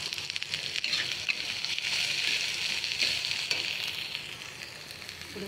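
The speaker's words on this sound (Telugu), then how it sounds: "ఒక 2 మినిట్స్ ఇట్లా కొంచెం ఫ్రై చేసిన తర్వాత" Pieces frying in oil for senagapappu pulusu sizzle steadily up close, with light crackles and occasional stirring scrapes.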